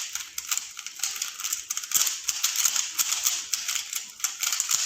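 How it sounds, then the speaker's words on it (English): A 3x3 Rubik's cube is twisted rapidly as it is shuffled, a quick, dense run of light plastic clicks and rattles heard close and steady, with no talking. "let us shuffle the cube"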